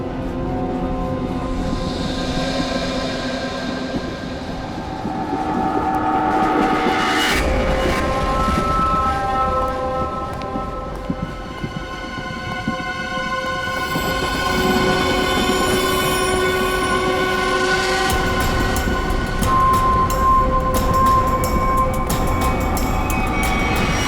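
A train running on rails, loud rumbling wheels with long metallic squeals and screeching tones rising and falling across the whole stretch, close and continuous, with no talking.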